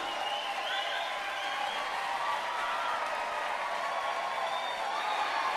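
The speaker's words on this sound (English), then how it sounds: "Without any warning, a huge cheer burst up, one that resembled the rumbling of the earth." A huge crowd cheer from the Chaos;Head visual novel swells as a steady, dense roar with clapping texture, sustained and fairly distant throughout.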